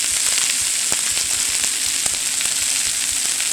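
Chicken drumsticks sear in a hot pan, giving a constant, dense sizzle with small pops and crackles and no voices over it.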